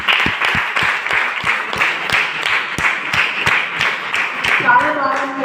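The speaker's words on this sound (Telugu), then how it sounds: "సార్ పేరు అజయ్ సార్కి give a big round of applause అండి." An audience applauds a speaker in a hall, with a dense, sustained round of clapping that has a few sharper individual claps standing out. A voice begins to speak near the end.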